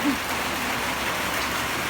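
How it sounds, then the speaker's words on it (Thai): Steady rain falls outside a home during a sun shower, a soft, even hiss that stays constant throughout with no other sounds over it. "ฝนตกแดดออกแรงอยู่นะคะ"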